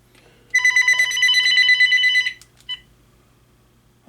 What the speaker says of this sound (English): the call in use light is flashing every time when the phone rings.